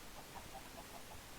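Chickens cluck faintly in Minecraft, a short series of soft, evenly spaced clucks over a quiet, noisy background.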